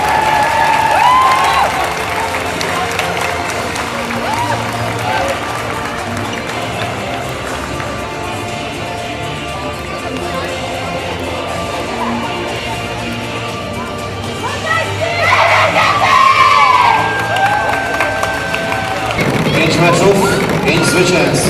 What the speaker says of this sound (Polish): Enea Energetyk Poznań Wielkie Brawa